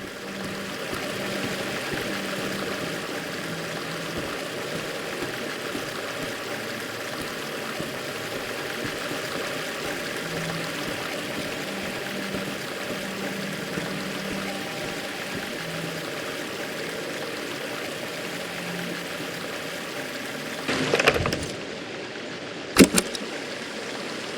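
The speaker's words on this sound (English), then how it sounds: "We have plenty of fresh water here." Fresh water flows steadily in the SEASON: A Letter to the Future video game, a continuous even stream-like rush with a faint low hum beneath, broken near the end by a couple of brief louder clicks; no speech.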